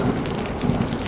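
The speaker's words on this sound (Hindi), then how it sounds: "इतनी तेज बारिश हो रही है" Heavy rain falls as a dense, steady hiss with a low rumble underneath, loud and continuous with no voices.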